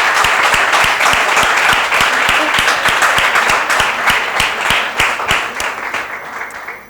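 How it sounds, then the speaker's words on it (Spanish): Loud, sustained applause from an audience at a public talk, a dense wash of many hands with one strong, regular clapper near the microphone, tapering off toward the end. "un aplauso para José Carlos Ruiz"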